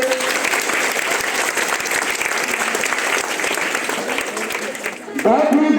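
A school audience at UMS Mataiyan claps loudly and continuously for a teacher, a dense, sustained wash of hands that swells near the end, with a voice speaking over it.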